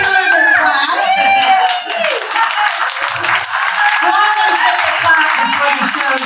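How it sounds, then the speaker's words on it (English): A live audience at a psychic's variety show claps steadily for a performer, a dense, even wash of hands that runs the whole time with a few voices and a sung or called tone drifting over it. "Let's give Taylor the clap."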